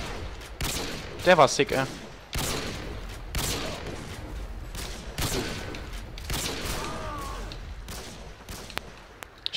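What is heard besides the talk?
gunfire in a shooter video game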